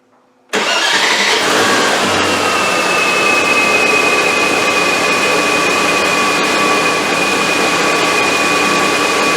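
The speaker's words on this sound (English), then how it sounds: "Now the engine's not warmed up" A Land Rover Discovery 2 engine cranks and catches after a brief quiet moment, then runs cold at a steady fast idle with a constant whining hum, loud and close throughout.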